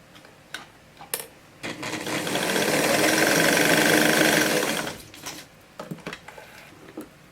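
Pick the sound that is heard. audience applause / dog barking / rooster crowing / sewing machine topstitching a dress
sewing machine topstitching a dress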